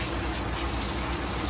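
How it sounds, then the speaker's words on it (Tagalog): Water gushes steadily into a pan of pork steak as it cooks, poured to tone down a salty sauce; a continuous, fairly loud splashing fill runs alone the whole time. "lagyan natin ng tubig. Abulan lang natin ng tubig kasi medyo malat"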